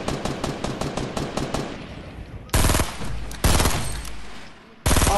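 Video game gunfire: a rapid burst of near, loud shots in quick regular rhythm, followed by several heavier blasts and another volley, with no talk over it.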